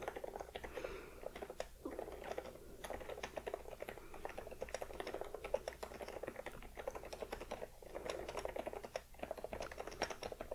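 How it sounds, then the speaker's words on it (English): Steady close-up scratching and tapping of note-taking runs the whole time, a quiet, continuous texture of small strokes with brief pauses, and no talking. "Just writing down what you're saying."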